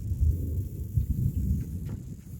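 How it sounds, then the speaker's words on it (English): Thunder rumbles low and distant during a thunderstorm, a rolling, uneven boom mixed with wind buffeting against the microphone. "Thunderstorm."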